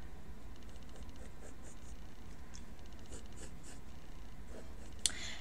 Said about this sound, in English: And then going to go in and sketch the thorax